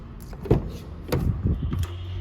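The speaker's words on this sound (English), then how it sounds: "we have our key with our lock and unlock" The door locks of a 2019 Toyota Tacoma 4WD TRD Sport, worked from the key fob, give several short mechanical clunks and whirs in quick succession, close by in a quiet setting.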